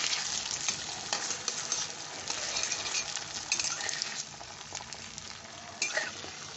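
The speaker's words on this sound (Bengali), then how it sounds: "আমি এখানে ডিমটা নুন দিয়ে ফেটিয়ে এই তেলে দিয়ে দিলাম।" Beaten egg with salt sizzles and spits as it fries in hot oil, a steady crackling fry with a few faint utensil clinks near the pan.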